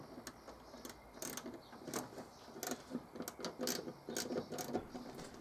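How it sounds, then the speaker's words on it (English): Spanner work tightening the nuts that hold a replacement fuel pump on a Morris Minor, heard as close, irregular metallic clicks and ratcheting taps in short bursts over a quiet workshop background. "And then simply tighten up both of these nuts until nice and tight, so the fuel pump is held securely in position."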